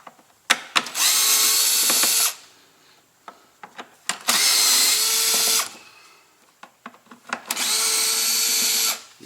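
A cordless power screwdriver with a T25 Torx bit whirs in three sustained bursts, each a couple of seconds long, separated by brief clicks and handling noises while it removes the air filter screws on a Porsche Macan.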